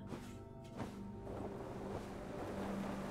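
Water in the video game Alice: Madness Returns washes and surges like waves, swelling to a steady rushing wash after a brief quieter start with a few soft tones.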